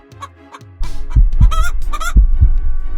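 Backyard chickens cluck and make short throaty calls close by, a few soft notes at first and then louder overlapping clucks in an irregular rhythm with no talking.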